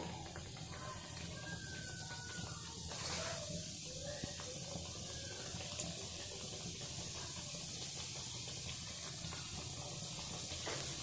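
Stuffed puris sizzle and bubble in hot oil with a steady, close, continuous frying hiss that runs unbroken throughout, with a faint voice now and then beneath it.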